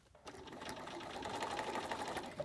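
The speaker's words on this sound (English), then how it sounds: "As I'm sewing this, because the French fuse has all the seam allowances interlocking" A sewing machine stitches a French fuse seam on a quilt project, running steadily and close at an even pace, fairly quiet, with no voices.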